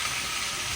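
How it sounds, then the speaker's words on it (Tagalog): Water from a tap overflowing, a steady, close hiss of gushing water throughout with no break. "Ay, napupong tubig."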